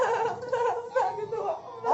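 A goat bleats in a series of wavering, nasal calls, loud and close, repeating over about two seconds with little pause between them.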